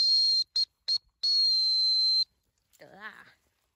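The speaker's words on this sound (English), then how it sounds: "Sorry, I had to whistle in my teeth." A dog training whistle used to recall Dalmatian puppies sounds three short shrill blasts and then one long steady blast, loud and close. A voice follows briefly after the whistling stops.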